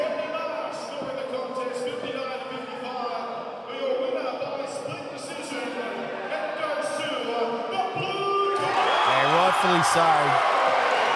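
A boxing event crowd roars and cheers after scorecards are read, the noise swelling louder toward the end beneath ongoing commentator talk.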